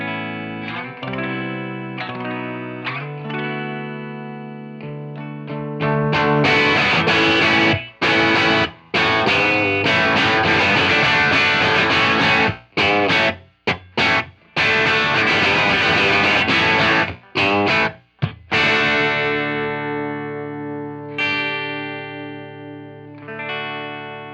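Electric guitar played through a Strymon Punch drive pedal into an amp with some drive, loud and sustained with harmonically rich overdriven chords, a few choppy stops in the middle, then ringing out alone.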